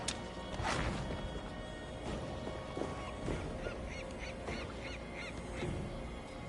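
A bird honks, goose-like, in Assassin's Creed Valhalla, giving a series of repeated nasal calls in the second half, and an earlier sharp impact cuts through a busy game soundscape.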